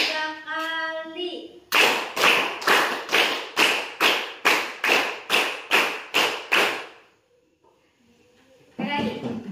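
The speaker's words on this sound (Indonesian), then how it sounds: "Tepuk tangan dulu." Rhythmic hand clapping, about a dozen sharp, evenly spaced claps in a quick run, preceded and followed by brief voices.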